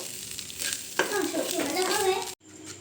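Chinese fried rice seasoned with chaat masala sizzles steadily in a pan while being stirred, with scraping strokes and a voice briefly over the frying before it cuts off abruptly near the end.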